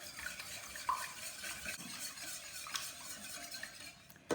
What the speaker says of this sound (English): So I'm going to beat this all together lightly. Make sure my eggs are thoroughly mixed in